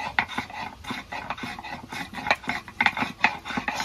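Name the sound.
grinding whole garam masala spices by hand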